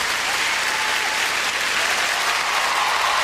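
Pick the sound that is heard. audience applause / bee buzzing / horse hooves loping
audience applause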